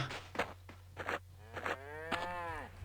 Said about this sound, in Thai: โอ้โหมีวัวเว้ยมีวัวเว้ย